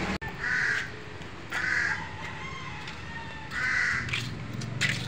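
Harsh crow caws come in three drawn-out bursts separated by short pauses, fairly loud against a steady low rumble of background noise.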